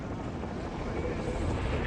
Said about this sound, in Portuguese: Sua única esperança é um helicóptero.